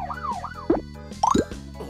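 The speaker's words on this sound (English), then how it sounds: "A police siren goes wee-oo, wee-oo!" A cartoon police car siren wails, rising and falling in a wee-oo pattern, followed by a couple of sharp cartoonish pops and squeaks, with no speech.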